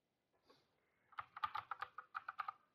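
Python code being typed on a computer keyboard, a quick burst of soft, close key clicks after a short pause, faint and without speech.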